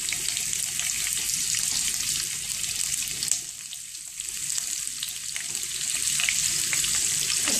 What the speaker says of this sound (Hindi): अभी एक पैन में मैंने एक टेबल स्पून ऑयल रखा है गरम होने को, जिसमें मैं कैप्सिकम डाल दूंगी।